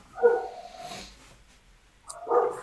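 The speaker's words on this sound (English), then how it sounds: "Whose dog's barking?" A dog gives two short barks, one at the start and one near the end, moderately close with quiet gaps between.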